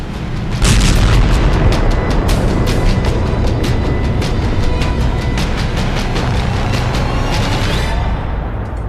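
A rapid series of booming artillery blasts from a bombardment of Russian positions in Ukraine hits hard, dozens of sharp detonations rolling together into a loud, continuous barrage that thins out near the end.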